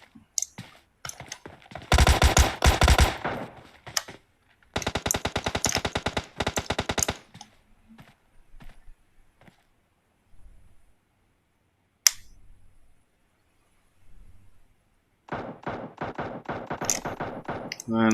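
Rapid automatic gunfire from a squad shooter video game, with several dense bursts of fire separated by pauses, a lone sharp shot near the middle, and a final sustained burst at the end.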